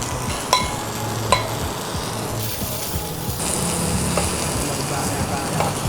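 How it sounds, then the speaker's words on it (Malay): Garlic frying in olive oil in a pan for spaghetti aglio olio, a steady close sizzle with a few sharp pops and clinks of a utensil against the pan. "kita masukkan olive oil masukkan bawang putih"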